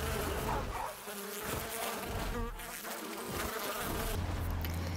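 Evolved bees in Far Cry New Dawn give off a loud, continuous buzzing drone that wavers in pitch and intensity, with no voices over it.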